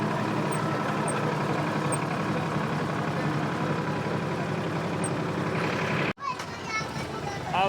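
A tractor engine drones steadily and loudly up close on a busy festival outing day, with voices and children in the background, then cuts off sharply before a quieter stretch.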